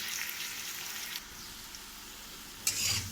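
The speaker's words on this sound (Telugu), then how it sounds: "ఆనియన్స్ వేసుకున్నాం కదండి, ఇందులో కరివేపాకు కూడా వేసేసుకుంటున్నాము" Onions and curry leaves fry in a pan as a steady close sizzle, with a brief brighter crackle near the end when something is stirred or added.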